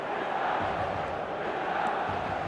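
A stadium crowd in the football video game eFootball 2025 keeps up a steady, loud wall of roaring and chanting, with commentary faintly audible beneath it.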